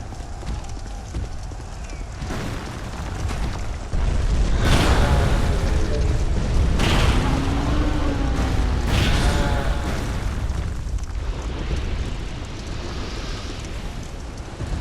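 Several loud whooshing bursts of erupting fire in Dark Souls 2, a few seconds apart, rise over dull in-game background noise.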